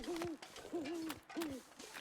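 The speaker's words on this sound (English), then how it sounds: "It just sounds like maybe some owls about." Owl hooting in the snowy wilderness of the survival game The Long Dark: three soft, wavering hoots spaced evenly over a couple of seconds, faint and distant against quiet ambient wind.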